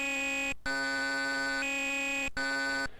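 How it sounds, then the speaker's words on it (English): Buzzy electronic tone from the power-adjust control in a DOS artillery video game, a sustained harmonic-rich drone broken by two brief gaps, loud and alone with no talk. "I actually love the sound it makes when you change your power in this game"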